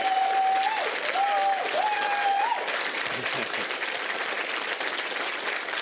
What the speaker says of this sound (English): we can get a round of applause to every single candidate that ran for us